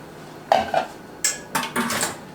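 A cooking pan holding tomatoes and onions is handled for a savory bread pudding, giving a few close metallic clanks and scrapes in short bursts with quiet pauses between them.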